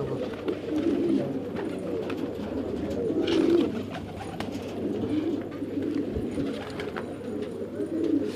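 Several pigeons coo in soft, repeated, throaty rolls, close by and fairly steady, with a faint background hum and no talking.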